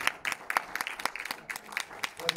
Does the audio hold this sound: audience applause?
yes